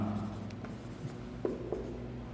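Pen writing notes on paper during a physics class: soft scratchy strokes with a couple of light taps, heard close over a steady low room hum.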